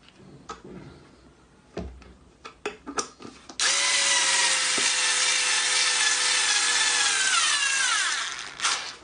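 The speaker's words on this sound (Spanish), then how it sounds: "Ahora atornillo y les muestro cómo queda." A power drill or screwdriver drives screws into a homemade guitar neck built from leftover wood, starting with a few sharp clicks and knocks, then a loud, steady whirring drive that runs several seconds before stopping.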